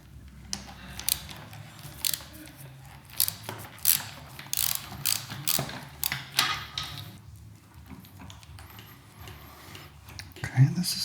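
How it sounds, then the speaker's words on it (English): Screwdriver work on the speedometer mount of a Royal Enfield Meteor 350 motorcycle, giving a run of close ratcheting clicks in irregular bursts, with brief pauses and a louder click near the end. "Loosen the screw here."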